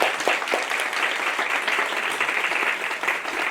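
Audience clapping after a reading on stage, a continuous, even burst of many hands from start to finish.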